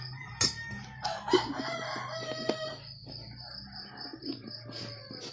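A rooster crows nearby in the early morning while other chickens cluck in the background, with insects chirping softly and a few faint knocks.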